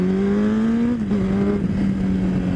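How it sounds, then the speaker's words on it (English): A Honda CBR1000RR motorcycle engine runs with a loud, close, steady tone that dips briefly as revs shift, then settles back to a constant drone; no one speaks. "So we're gonna see if the engine works."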